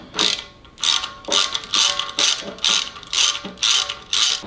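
A hand ratchet runs down the oil pan bolts on a 440 engine during assembly, giving about eight quick, evenly spaced bursts of clicking pawl, close and loud, with no talk.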